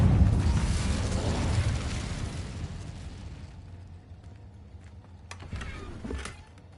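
The Incendio fire spell is cast in a magic video game: a loud fiery whoosh and burst that roars and then fades over a few seconds, followed by a few sharp clicks and a smaller flare.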